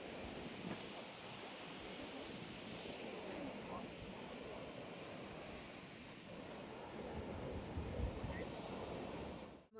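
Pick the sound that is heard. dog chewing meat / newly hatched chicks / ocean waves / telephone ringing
ocean waves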